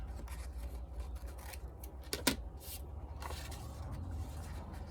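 Scissors cut paper for a fold-out mini journal with a garden page, giving faint close snips and rustling over low room noise, with one brief sharper cut near the middle.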